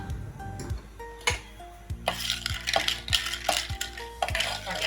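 Cinnamon bark is dry-roasted in a hot pan and stirred with a metal spoon, giving repeated clinks and scraping rattles against the pan, close and fairly loud, with light dry crackle between strokes.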